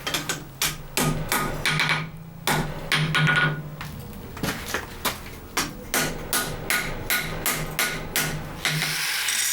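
Hammer blows on twisted steel layers being forge welded for a pattern-welded scouting knife, loud close metallic strikes in a steady repeated rhythm with a brief pause partway, no speech.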